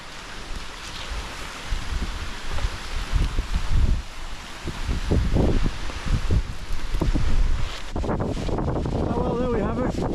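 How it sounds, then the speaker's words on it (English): Strong wind gusts buffet the microphone at a cliff edge in the Irish countryside, a loud rumbling roar that surges and eases, with someone speaking briefly toward the end. "Some strong gusts coming every now and again."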